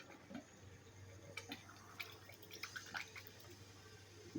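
Water runs through the heater core of a 2012 Toyota Prius V with 183k miles as it is flushed, a faint steady trickle with scattered drips and splashes.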